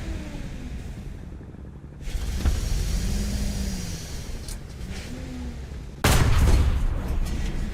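A tank cannon in War Thunder, the Breda 90/53, fires with a single heavy boom near the end, preceded by engine rumble and a smaller report, all fairly distant and muffled.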